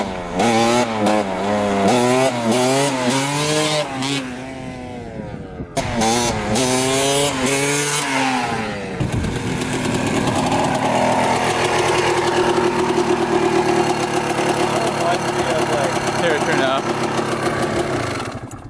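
A Honda CR250 two-stroke dirt bike engine revs hard during wheelies, rising and falling in sharp repeated bursts before holding a loud, sustained buzzing roar, with a voice talking over it at times.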